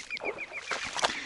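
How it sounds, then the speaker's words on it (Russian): Teal ducks call in quick repeated whistling peeps with a flurry of wing and water noise as they fly in and land, nearby and brief. "Это чирки были, садились сюда."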